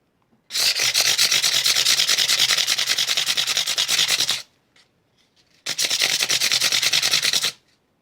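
Abrasive paper rubs back and forth over the frets of a Harley Benton ST-70 electric guitar during fret leveling, a dense rapid rasping stroke run for about four seconds, a brief pause, then a second two-second burst, close and loud.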